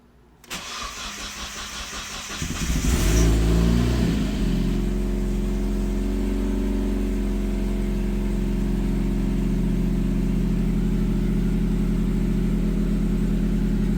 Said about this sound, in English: It is a cold start completely with the new E85.